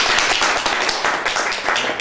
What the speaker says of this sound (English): if you don't mind giving a big round of applause to Kiyoshi Chris Colombo.